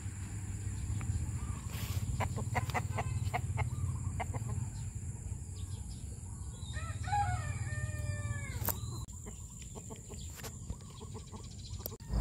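A rooster among hens in a banana grove gives one clear crow that rises and falls over about two seconds. It sounds fairly close against a steady outdoor background, with scattered clucks and small ticking noises before it.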